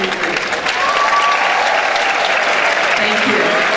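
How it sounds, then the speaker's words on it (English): A full audience at a school awards assembly claps loudly and continuously, a dense wash of applause that swells early and holds steady, with some voices underneath. "Big round of applause"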